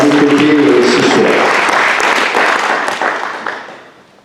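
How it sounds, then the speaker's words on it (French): Council members at a municipal council meeting in Levens applaud themselves: a dense, steady burst of clapping from a roomful of people, loud at first and then fading out over a few seconds. "je crois que vous pouvez vous applaudir tous et toutes"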